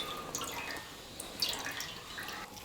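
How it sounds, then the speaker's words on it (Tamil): Water dripping from grated pumpkin squeezed in a cloth while making halwa: faint, sparse drips patter softly into a quiet kitchen. "இந்த மாதிரி துணியில் போட்டு பூசணிக்காவை நல்லா தண்ணி ஃபுல்லாக இழுக்கிற அளவுக்கு நல்லா நம்ம பிழிஞ்சு எடுத்துக்கலாம்."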